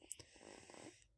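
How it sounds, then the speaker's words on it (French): A woman snores faintly, giving a few soft rasping breaths with a brief snort, quiet and close in an otherwise still room. "Je sais pas si vous entendez vraiment les ronflements"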